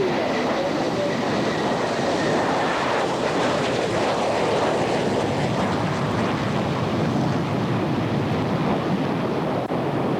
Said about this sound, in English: It's a low and slow pass,